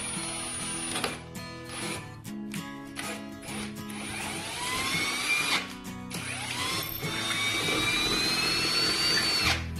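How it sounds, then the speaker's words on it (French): Power drill enlarging the screw holes of a wall shelf, running in several short bursts and then a longer whining run, close and loud with rising pitch sweeps, no talk. "il faut élargir les trous de l'étagère"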